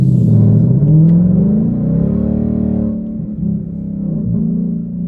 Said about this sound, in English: sound of the exhaust with the Flowmaster X-pipe and the Flowmaster